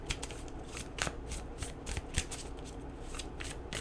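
Tarot cards shuffled continuously at close range, giving a steady run of soft papery riffles and slaps at a quiet, even level with no talking.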